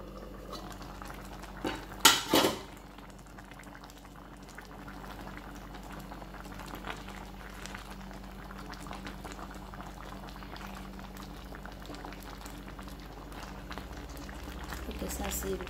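Beans with pork feet and sausages boiling in a covered pot, a soft steady bubbling simmer heard close but quiet, with a brief clatter of the lid or utensils near the start.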